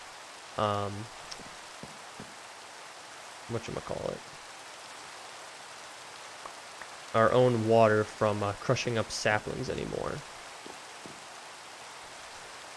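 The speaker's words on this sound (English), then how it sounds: "There's the rain." Steady hissing rain falls in the block-world game SkyFactory 4, a Minecraft modpack, a constant soft wash behind occasional bursts of someone talking.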